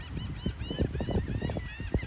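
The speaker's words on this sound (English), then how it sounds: "And y'all can hear the birds" Geese honk outdoors in a busy, overlapping flurry of nasal calls, fairly close and repeated throughout, with a steady high electronic whine in the background and no speech.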